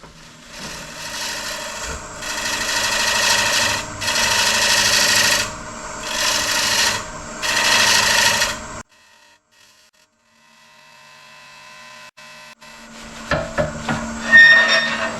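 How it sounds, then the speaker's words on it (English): Abrasive sanding against beech and walnut wood spinning on a lathe comes in several long, rasping bursts, then a pause, a quiet hum, and some clattering handling noises. "Tool rest away, and we're going to start sanding."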